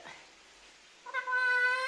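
After a quiet moment, a parrot gives a clear, sustained meow imitating a cat, close and fairly loud.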